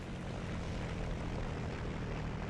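Friendly propeller aircraft in the War Thunder video game drone loudly and steadily overhead, a dense unbroken engine roar filling the whole moment.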